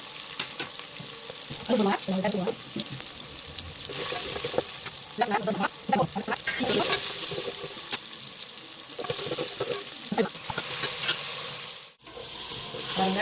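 Onions sizzle in a pan as they fry toward golden, a steady hiss broken by repeated scraping and stirring sounds throughout, with one brief dropout near the end.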